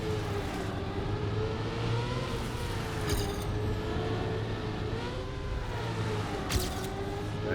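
A car in Trackmania holds a steady engine drone while drifting through a turn, with a whine that shifts in pitch and two brief bright skid bursts.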